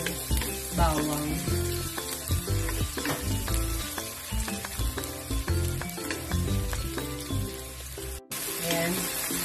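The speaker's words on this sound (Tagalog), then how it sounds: "Ayan muna nating maluto yung bawang." Garlic sautés in a pan, a steady loud sizzle overlaid with frequent clinks and scrapes of a utensil stirring against the pan, continuing nearly throughout.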